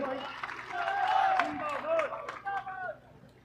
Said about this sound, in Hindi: तालियां मार के स्वागत करो भाई।